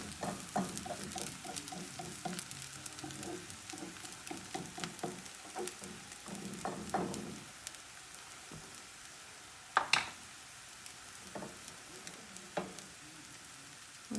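Pancake batter sizzles and patters in a hot skillet, a steady crackle for several seconds that thins into quiet with a few sharp clicks and scrapes.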